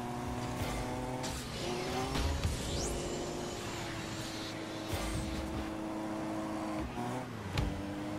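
A car in the Rocket League video game whines at a steady engine pitch while drifting. Tyre screeches and quick pitch sweeps break in, and short impact clicks punctuate the play.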